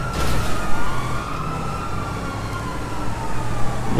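A police siren wails in GTA V gameplay during a car chase, with a loud, continuous sweeping tone over rumbling vehicle and engine noise.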